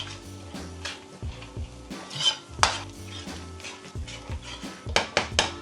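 Metal utensil scraping and clanking against a pan while chili paste is stirred into Thai green curry over low heat, a series of close, irregular clinks and scrapes with no talking.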